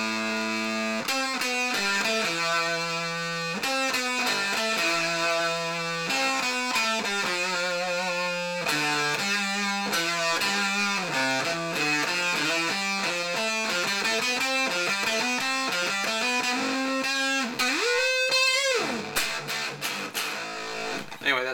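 Guitar played through a wave folder pedal set halfway between triangle and square wave with the treble cut engaged: distorted, buzzy notes and chords ring out in a steady rhythm, ending with a bend and a few choppy strums.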